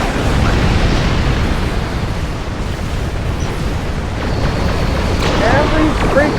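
Torpedo explosions in the space combat game Star Trek Online, dense booming blasts that rumble continuously and loudly throughout, with no pause between impacts.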